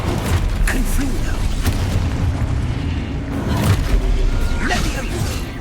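Blasting-spell explosions in the Hogwarts Legacy game, deep booms and rumbling impacts over dense, continuous combat noise, loud and close, with someone speaking throughout.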